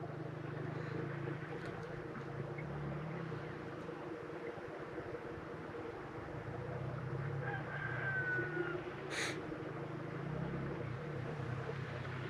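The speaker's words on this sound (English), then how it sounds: "You can even hear the rooster crow over there." Rooster crowing in the distance at a rural hot springs, a faint brief call over a steady low rumble of outdoor background noise.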